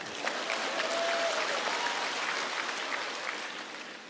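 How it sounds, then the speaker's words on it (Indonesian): An audience at a religious talk applauds for the women, a soft, even wash of many hands clapping that holds steady without voices on top. "Tepuk tangan untuk wanita dong."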